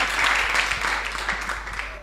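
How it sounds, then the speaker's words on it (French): Crowd applause for Clémentine at a sports radio broadcast held in the Treichville state swimming pool hall, a steady wash of clapping with a low hum underneath and some voices mixed in. "on applaudit Clémentine."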